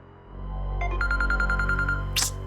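A phone rings indoors with a repeating electronic ringtone, a quick string of bright pulsed beeps over a low steady hum, ending in a brief rustle.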